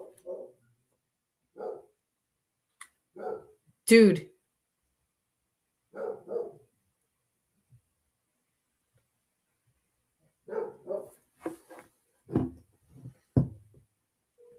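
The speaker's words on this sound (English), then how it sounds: "The dogs are going nuts." Several dogs bark in scattered bursts, fairly close and moderately loud, with short gaps of quiet between volleys and people talking at times amid the barking.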